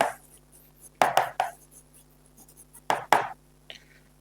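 Pen writing numbers on paper: quick scratchy strokes in short clusters with pauses between them, close and crisp, with no voice over them.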